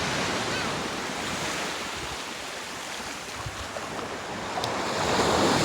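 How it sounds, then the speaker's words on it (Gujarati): Sea waves wash onto a shore in a continuous broad roar, mixed with gusty wind buffeting the microphone, steady and fairly loud with no voices. "સરસ મજાનો દરિયો."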